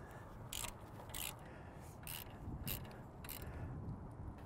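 A half inch drive ratchet clicks in about six evenly spaced strokes while tightening a track plate bolt on an MT85 tracked machine, close up and fairly quiet, with no talk.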